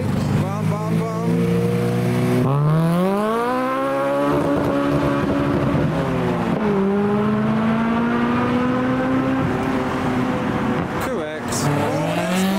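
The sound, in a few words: retro cars including Jaguar engines racing, from video game GT3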